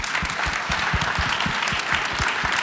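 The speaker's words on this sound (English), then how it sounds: "Give him a round of applause because he agreed." Large audience of roughly 300 people at a tech conference applauding continuously, a dense even wash of clapping with a low rhythmic thumping underneath, no voices.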